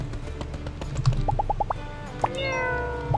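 A cat meowing in the video game My Time at Sandrock, a quick run of several short chirpy meows followed by a longer drawn-out meow, clear and close over a low background hum.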